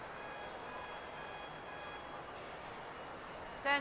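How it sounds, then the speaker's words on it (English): A repeating electronic warning buzzer sounds at a World Cup of Pool match, four evenly spaced bursts over a steady hall hum, fairly faint and then falling silent. "He heard the buzzer, the 10-second warning"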